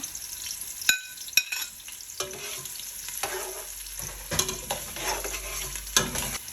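Garlic, onion and ginger sauté in a pan for arroz caldo, a steady close sizzle broken by scraping stirs and a few sharp utensil clacks against the pan.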